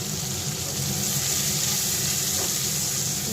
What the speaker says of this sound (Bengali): এবারে এই গরম তেলেই আমি একটা পেঁয়াজ কুচিয়ে রেখেছিলাম, এই একটা পেঁয়াজ কেটে দিয়ে দিলাম।